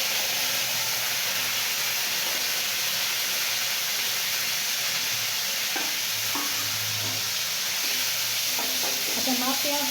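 Grated and chopped onions fry in hot oil while being stirred, a dense, steady hiss of sizzling throughout with soft scraping of a spoon, close and even in level, no speech.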